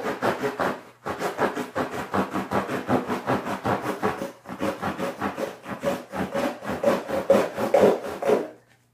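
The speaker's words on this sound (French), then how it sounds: "on sort notre gros couteau à lapin ou un gros couteau avec des bonnes dents et on scie notre rouleau" A large serrated knife saws through a roll of paper towels for homemade baby wipes in quick, even back-and-forth strokes, heard up close, pausing briefly twice before continuing.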